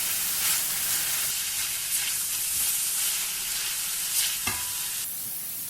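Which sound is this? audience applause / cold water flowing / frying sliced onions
frying sliced onions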